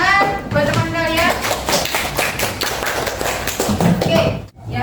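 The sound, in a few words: students clapping for a classmate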